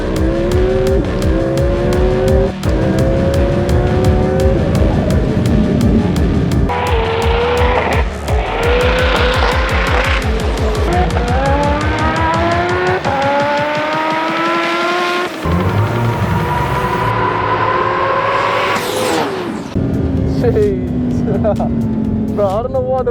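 A modified Audi R8 street car at a roll racing event, a loud engine revving and rising through gears with tire squeal and wind rush, heard close from inside the car over people talking.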